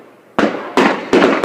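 New Year's Eve fireworks in Holland go off as four sharp, loud bangs in quick succession, each cracking and fading into a brief rumble.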